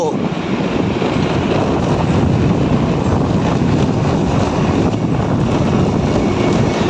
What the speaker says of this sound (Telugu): Railway station, Kakinada railway station.